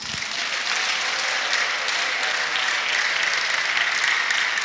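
A church congregation claps in sustained, dense applause that stays loud and even throughout, with no pauses and no voices rising above it.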